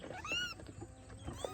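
A young kitten gives a couple of soft, high mews, one early and one near the end, faint against a quiet indoor room.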